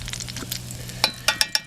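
Eggs fry in sausage grease in a hot pan at a campsite with a soft sizzle and stirring, then several sharp metallic clinks of a utensil against the pan near the end.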